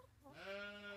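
A single sheep bleats once, a wavering, nasal call that rises and holds, fairly close with faint background noise.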